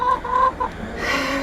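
Chickens clucking in a snowy farmyard, a few short close clucks in the first half, then a softer, steadier murmur of hens in the background.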